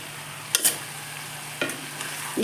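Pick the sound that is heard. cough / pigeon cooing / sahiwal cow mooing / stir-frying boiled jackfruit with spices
stir-frying boiled jackfruit with spices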